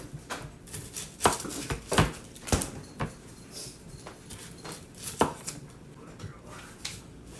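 A knife chops an onion for a hamburger-meat dish, sharp irregular knocks on a cutting board coming in quick bursts and single strokes, close and fairly loud.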